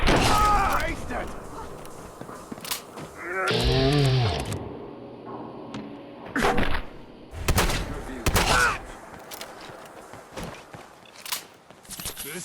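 Bursts of automatic gunfire from a Fallout 4 firefight crack out in several separate volleys, loud and close, mixed with footsteps and shouted voices between the shots.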